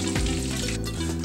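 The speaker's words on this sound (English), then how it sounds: "I'm gonna let my fish cook just for about another minute or two" Pumpkin-seed-crusted tilapia frying in a pan makes a steady, close sizzle of hot oil, loud and continuous without any talk.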